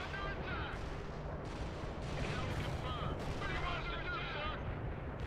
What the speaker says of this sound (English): Artillery barrage turns target area into dust.